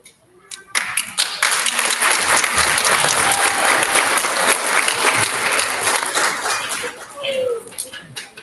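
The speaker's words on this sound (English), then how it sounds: "One more big round of applause for all of our recipients." An elementary school audience claps for student award recipients at a recognition ceremony, a loud sustained round of applause that swells quickly, holds steady, then tapers off.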